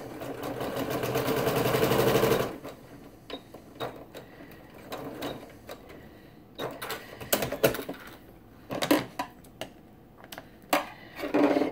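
A sewing machine runs in a short, fast burst while stitching quilt fabric pieces, then stops, followed by scattered clicks, taps and fabric handling up close, with no talk.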